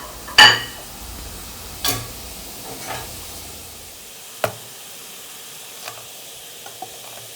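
Onion and garlic sautéing in olive oil in a pan, a faint sizzle broken by a few sharp stirring scrapes and clacks of a utensil, fading toward quieter taps.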